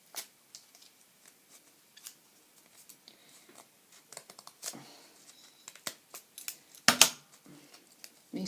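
Scissors cutting folded paper into a snowflake, heard as soft, close, irregular snips and crinkles that grow busier toward the end, with one sharper rustle near the close.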